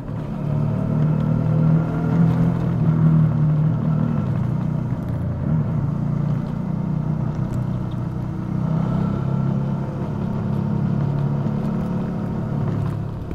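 A motorcycle engine, a Suzuki V-Strom, runs with a steady low rumble continuously and close, with a deep, even drone and no talking.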